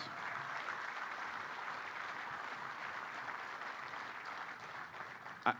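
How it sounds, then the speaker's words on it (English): Steady applause from a large crowd at a topping-off ceremony for a Cleveland Clinic building, a dense wash of clapping that holds evenly throughout, with a brief sharp knock near the end. "We give them a big round of applause, please."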